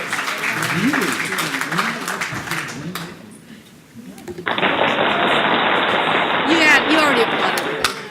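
Voices talk during a game show at the NHA 2018 hydropower event, then a burst of audience applause and cheering rises and continues steadily, loud and dense.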